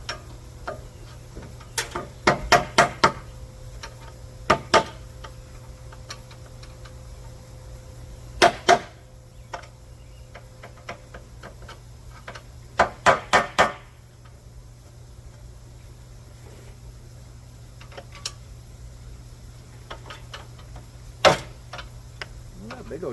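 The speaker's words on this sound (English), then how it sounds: "I need to chisel it out, clean it up" A chisel knocks caked-in epoxy out of aluminum with sharp metallic taps, close by, in quick clusters of two to four strikes separated by quiet pauses.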